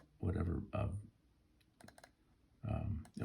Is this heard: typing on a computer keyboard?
yes